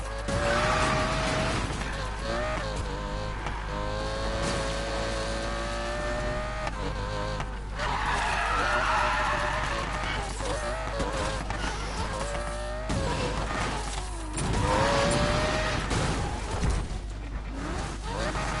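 A car in the racing game Need for Speed Payback crashes into traffic, with a loud continuous engine roar, tire squeals and skids, and abrupt impact bursts throughout.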